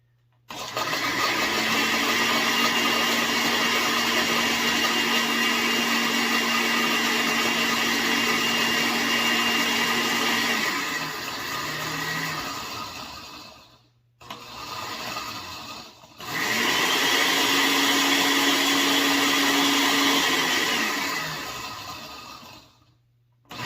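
A blender grinding onion, garlic and spices for a bear-meat carnitas marinade, a loud, close motor whir running about twelve seconds, stopping briefly, then starting again for a second long burst before cutting off.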